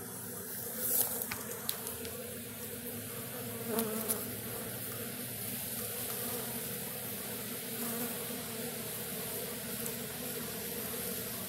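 A late-season honey bee swarm drones steadily up close, a dense continuous buzz with a few individual bees passing louder near the start.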